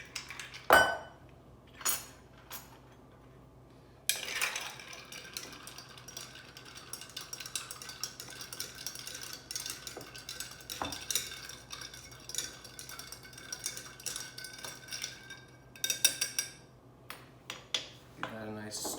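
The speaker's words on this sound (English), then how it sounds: "Give that a nice stir." A rye cocktail gets stirred with ice in a glass, with scattered clinks and a sharp clatter near the start, then a busier stretch of rattling and scraping ice, all fairly quiet and close.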